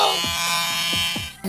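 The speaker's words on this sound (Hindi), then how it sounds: "ये सोचकर इस बच्चे ने ट्रिमर अपने हाथ में ले लिया और बाल काटने लग गया।" Electric hair trimmer buzzing steadily while cutting a child's hair, a close, constant motor whine with a few brief dips in pitch as the blades catch hair, cutting off abruptly at the end.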